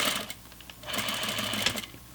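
A sewing machine stitches flannel pajama pants at a stitch length just over 2.5, a close, fast whirring and rattling run that pauses briefly before starting again, with no talking.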